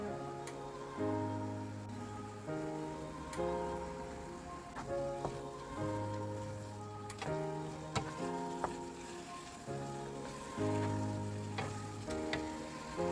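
Minced beef sizzles and fries steadily in a hot pan, with occasional stirring ticks, under continuous background music.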